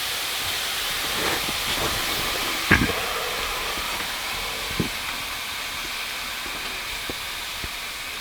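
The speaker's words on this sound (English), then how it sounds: "We're on a pretty good boil there" Water at a rolling boil in a pot over a campfire outdoors in cold weather, a steady close hiss of steam and bubbling with a few faint knocks and pops scattered through it, no voices.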